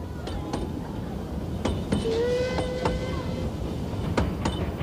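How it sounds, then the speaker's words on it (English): Puffing Billy steam railway hauling a replica mixed goods train through the ranges: scattered metallic clinks and clanks over a steady low rumble, with a brief tonal whistle-like note in the middle. "Puffing Billy mounts a replica of the kind of mixed goods train that once ran through these ranges every day"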